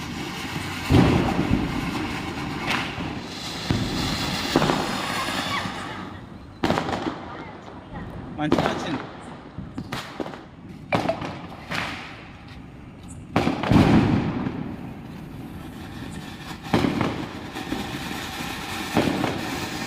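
Diwali firecrackers burst outdoors in sharp, loud cracks and booms, scattered irregularly with some clustered volleys, while people talk between and under the bangs.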